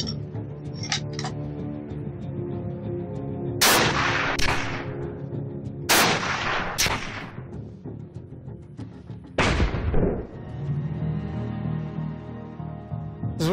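Several loud rifle shots fire steel core and lead core bullets into targets such as a shield, melons and a tree trunk, each a sharp crack with a decaying tail, spaced seconds apart with short impact sounds.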